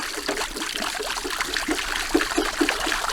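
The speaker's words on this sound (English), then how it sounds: "So I'm going to put hot water in here" Hot water pours into a frozen livestock waterer, a steady splashing trickle with rhythmic gurgling bursts throughout, close and moderately loud with no talk.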